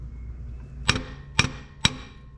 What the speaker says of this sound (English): I can't get back here to swing this hammer too good